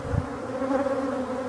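Honeybees pour out of a hive entrance and take off in a windy apiary: a dense, continuous buzzing hum close to the microphone, with a brief low gust near the start and no talking.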